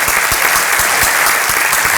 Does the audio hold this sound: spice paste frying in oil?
no